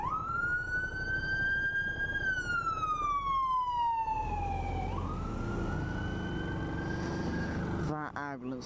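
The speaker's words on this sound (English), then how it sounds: "That ambulance scared the hell out of me." A loud ambulance siren wails close by, sweeping up and down over rumbling traffic, then shifts into a rapid yelp at the end.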